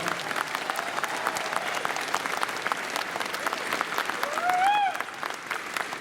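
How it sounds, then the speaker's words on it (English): Convention audience applauding at a furry convention opening ceremony in Pittsburgh, a large crowd's dense sustained clapping filling the room, with a brief whoop or cheer rising near the end. "big round of applause and thank you to Visit Pittsburgh"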